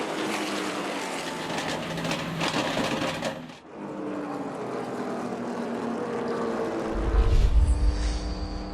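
A field of NASCAR Cup Series race cars roars up through the gears on a restart, a loud engine wash that dips briefly, then swells again with a deep low rumble near the end.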